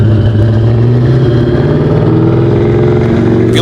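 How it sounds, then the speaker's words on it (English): A 393 stroker V8 revving on a dyno and breaking up under throttle, loud and close, with a sustained rough low-pitched engine drone holding steady throughout. "If you listen close, you'll hear it break up as soon as we let in the throttle"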